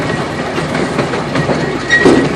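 Steady rumble and clatter of the Milton Clipper express train in motion, a close, continuous rolling noise with faint wheel clicks and a brief squeal near the end.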